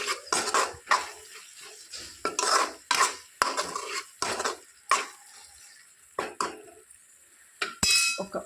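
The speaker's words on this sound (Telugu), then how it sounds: "మరొకసారి కలుపుకుందాం." Spoon scraping and clinking in a pan while capsicum curry is stirred, with repeated short bursts of scraping at an uneven rhythm, close and fairly loud, with no voices.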